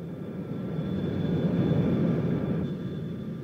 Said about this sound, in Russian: Наш самолет совершает посадку в аэропорту города Ленинграда.